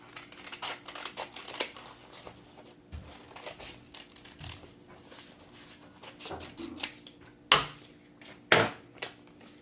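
Scissors snipping through folded paper while cutting out pieces of a paper wolf mask, a run of soft crisp cuts and rustles with a couple of sharper snips near the end, close and fairly quiet.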